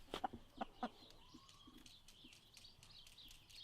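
Chickens and a rooster on a farm give a few faint, distant clucks, with thin bird chirps scattered over a quiet outdoor background and no voices.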